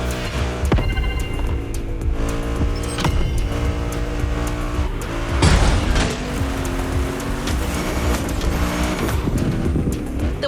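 A car drifting through sharp turns on winding Hawaiian mountain roads in The Crew Motorfest, its engine roaring steadily under long, loud tire squeals that rise and fall throughout.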